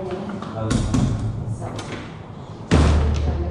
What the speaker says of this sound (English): You do have to slam the doors here.